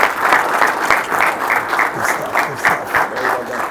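An audience at a cleaning-industry panel event applauds in a steady round of clapping that runs throughout, with a brief spoken word over it.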